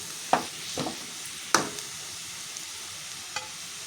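A spicy karam fry cooks in a pan with a faint, steady sizzle, broken by a few sharp scrapes and taps from stirring.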